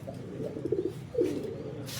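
A pigeon coos softly a few times in low, throaty phrases, close by with quiet background hiss.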